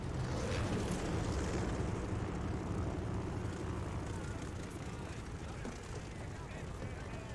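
Propeller aircraft engines from Call of Duty: Vanguard drone loudly and steadily throughout, a dense low rumble with a broad hissy wash, with a voice talking over it now and then.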